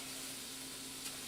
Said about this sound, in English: Alright, sizzle, sizzle.